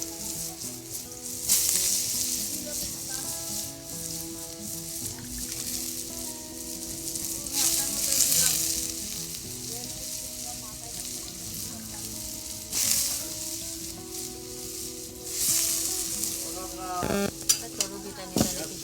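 Fish fries in a wok, producing a loud continuous sizzle with bursts of stirring and scraping that swell and fade over a faint tonal background, without any talking.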